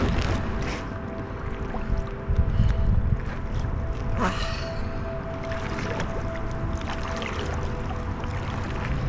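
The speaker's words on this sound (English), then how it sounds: "And we are kayaking once again." A kayak paddles near Cave Rock with water sloshing and dripping close by, paddle strokes splashing at intervals over a steady outdoor background.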